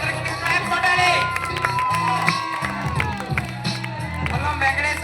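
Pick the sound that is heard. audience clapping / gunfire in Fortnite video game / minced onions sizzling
audience clapping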